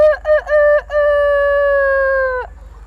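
A rooster crows loud and close: a few short choppy opening notes, then one long sustained tonal call that cuts off abruptly, with no talk over it.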